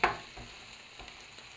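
Garlic and onion hit a hot pan for pork steak and are stirred, giving a brief bright sizzle at the start that settles into a soft, steady frying hiss with faint scrapes.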